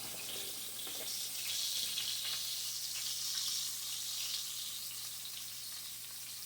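Hamburger steaks coated in flour fry in a pan with a steady, soft hiss of sizzling fat, continuous and fairly close, with no talking.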